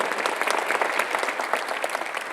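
A church congregation clapping during a Sunday worship service, a loud, dense crowd of hands beating together in a steady, busy patter that fills the room.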